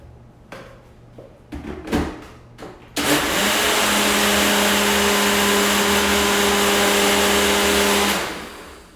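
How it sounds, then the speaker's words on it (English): After a few clicks and knocks of setting up, an electric blender roars into a loud, steady whir blending a smoothie with coconut milk and Vietnamese cinnamon, running continuously for about five seconds before cutting off abruptly. "I like to blend it up for a pretty good amount of time when I'm blending these things"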